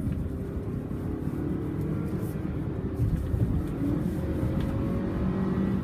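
Inside a 2018 Toyota RAV4 with a four-cylinder engine and six-speed transmission, a low, steady engine drone and road rumble swell slightly as the car accelerates hard, heard from the cabin with no talking.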